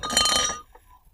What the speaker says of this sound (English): Yeah, some glass vases.